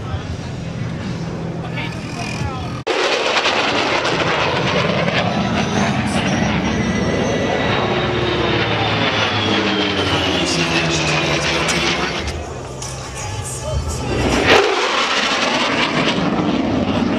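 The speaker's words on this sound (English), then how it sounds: "Jets are loud." Jet aircraft roaring overhead at an airshow, a loud, sustained broadband rush that sweeps and shifts in pitch as it passes, with people's voices partly buried under the noise.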